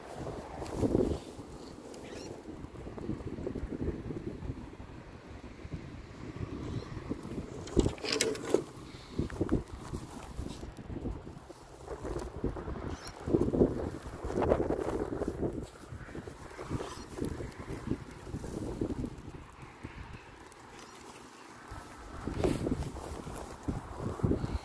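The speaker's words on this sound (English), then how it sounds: "It's a bit breezy." Breezy outdoor wind during a herping stop in a patch of clover, rumbling and buffeting the microphone in uneven gusts that swell and fade over the whole stretch, with no one talking.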